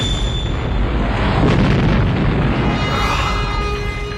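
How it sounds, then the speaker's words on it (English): A car explodes in the film Mad Max 2, a loud, sustained roaring blast that swells and then trails off over a few seconds, alone without voices. "That was a fantastic explosion."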